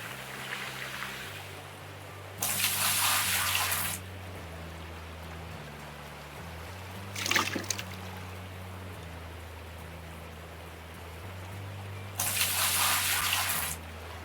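Water scooped and poured into a bucket in Gold Rush: The Game, three separate splashing pours of about a second each, spaced apart over a steady low hum of machinery.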